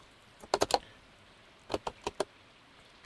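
Computer keyboard typing in two short bursts of crisp, close key clicks, three or four strokes each, separated by a quiet pause.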